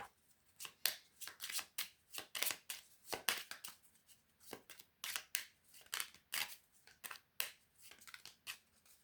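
A deck of tarot cards is shuffled continuously in rapid, crisp riffles and slaps. The sound is quiet and close, with no voices.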